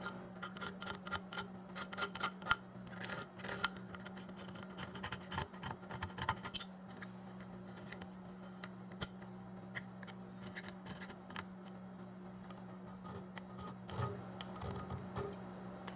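Razor blade scraping old gasket material off the timing cover of a 1995 Oldsmobile 3800 engine: a rapid series of dry, raspy scrapes in irregular bursts, close and fairly quiet over a steady low hum.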